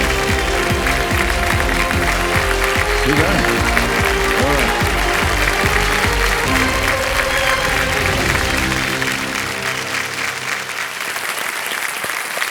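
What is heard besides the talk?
studio audience applause for a contestant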